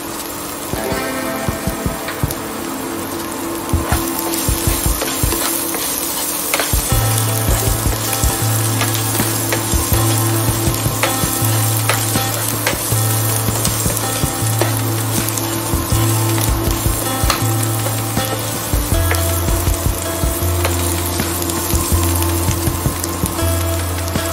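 Garlic added to softened onions sizzles and fries in a pan for a Maharashtrian vange batata bhaji, a steady crackling hiss with occasional clinks of a spoon and a low background hum.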